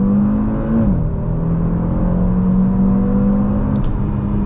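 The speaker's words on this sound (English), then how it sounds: "So let's do a little acceleration here." A Volkswagen MK8 Golf R accelerates hard, its engine drone loud and close from inside the car, with a pitch drop at a gearshift before the steady pull climbs again.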